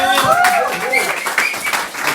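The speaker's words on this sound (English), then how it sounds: "Big applause for the man." A stand-up comedy audience claps and cheers for a comic, with a continuous patter of applause mixed with whoops and voices.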